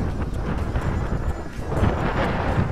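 Gusty wind buffets the microphone in a constant low rumble with uneven surges, outdoors during a small brushless drone's test flight.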